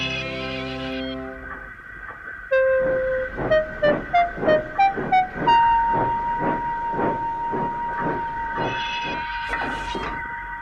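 Steam express train on a children's model railway show, starting with a whistle and hiss, then rhythmic chuffing that builds into a steady puffing beat under a sustained tone and music, loud and close.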